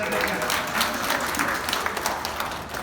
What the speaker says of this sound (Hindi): ताली बजाना यार